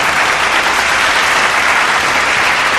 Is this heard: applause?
yes